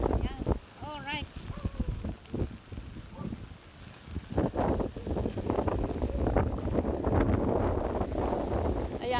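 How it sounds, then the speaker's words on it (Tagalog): Strong wind at the sea roars and buffets the microphone outdoors amid big waves, rising into a constant heavy rush by the end, with voices heard early on. "lumakas na po ang hangin at ang tubig ay lumaki na talaga"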